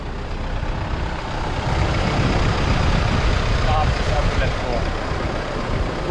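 Vehicle engine idling with a steady low rumble in a remote outback spot in Queensland, Australia, continuous throughout at moderate loudness with faint background voices.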